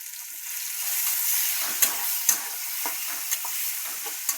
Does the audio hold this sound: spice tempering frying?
yes